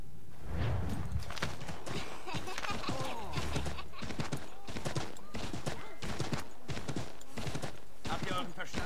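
Horse hooves clip-clop at a steady gallop in the video game Assassin's Creed 3, a rapid, even rhythm of thuds that carries through the whole stretch, with game background sounds and occasional talk underneath.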